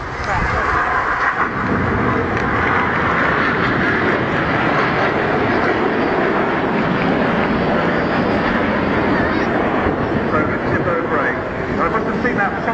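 Red Arrows jets flying a synchro pair manoeuvre at an airshow in Bournemouth, a sustained broad jet roar filling the air steadily throughout after a short lull at the start, with a commentator talking over it.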